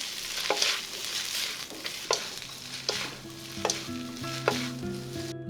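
Duck meat stir-fries in a hot pan while a utensil scrapes and stirs in regular strokes about once a second, under a faint steady hiss.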